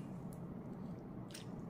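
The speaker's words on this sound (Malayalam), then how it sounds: "അപ്പോൾ ഞാനൊന്ന് കുഴച്ചെടുക്കട്ടെ കേട്ടോ" Rice flour dough mixed with water for butter murukku is kneaded by hand, giving soft, faint squishing and squelching sounds with no voices.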